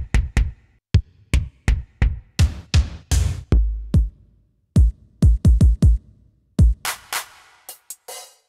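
A Yamaha QY70 sequencer plays a drum kit pattern alone: crisp kick, snare and hi-hat hits in a steady, syncopated rhythm, loud and dry, with a short pause midway before the groove resumes.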